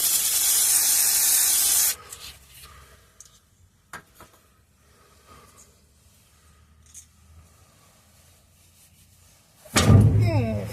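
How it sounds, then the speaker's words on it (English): An aerosol can sprays lubricant onto the bolts of a rear bumper on a 2002 GMC Sierra in two loud, close hissing bursts. A long blast opens the clip, and a shorter one comes near the end, with quiet handling between them. "We'll go ahead and spritz them."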